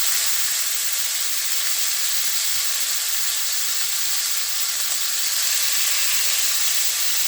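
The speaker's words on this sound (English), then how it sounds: "add our pork to the oil" Pork sears in a small amount of hot oil for a brown stew, giving a constant, close hissing sizzle that stays level throughout with no talking.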